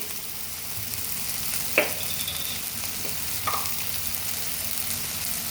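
Homemade kothu parotta sizzles steadily in a pan as it is stirred with turmeric powder, with a couple of sharp spatula scrapes standing out over the constant frying hiss.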